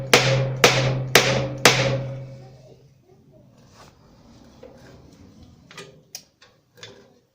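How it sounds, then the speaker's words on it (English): A hammer strikes the fender of a 1948 Ford F1 pickup four times in a row, each blow loud, close and metallic with a ringing tail, followed by softer scattered taps and knocks. "I think I need a bigger hammer."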